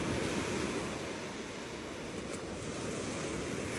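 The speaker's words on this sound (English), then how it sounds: "this right here is one of the best illustrations I can show you of a rip current at low tide" Ocean water surging in a rip current at low tide makes a steady, dense rushing wash with a slight windy roar. It stays constant throughout, with no voices.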